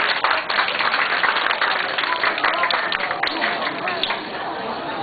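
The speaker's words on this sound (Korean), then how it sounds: "박수 좀 쳐주세요. 박수 좀요." Guests clap steadily at a child's first birthday party in 2003; dense, continuous applause fills the room while people talk over it throughout.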